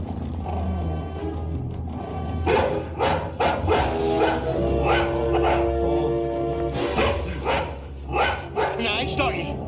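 A dog in a horror film barks in a burst of loud, close woofs and yips, some whimpering between them, against a steady low background.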